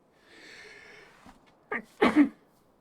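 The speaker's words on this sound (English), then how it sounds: "I'm going to have to sneeze." A person draws in a rising, wheezy breath, gives a short catch, then lets out a sudden, loud, explosive sneeze at close range.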